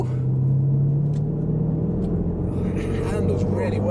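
A Range Rover Sport SVR driven at about half throttle gives a steady, deep engine rumble with road noise from inside the cabin, while a voice talks over it.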